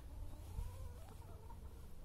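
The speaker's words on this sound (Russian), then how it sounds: "Там у них еще и куры." Chickens clucking faintly in the distance outdoors in an English garden, a few soft clucks over a low, steady background hum, no speech.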